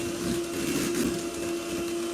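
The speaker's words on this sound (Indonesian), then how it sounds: "Campur rata menggunakan mixer, cukup kecepatan rendah." An electric mixer runs at low speed, blending cookie dough after an egg goes in, giving a steady close motor whir with a constant hum and no talking.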